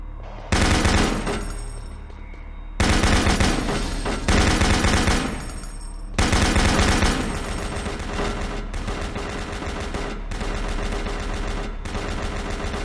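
Doom 3 video game gunfire, played in VR, comes as loud dense bursts of rapid shots with brief gaps, sustained over a dark rumbling game backdrop with no talking.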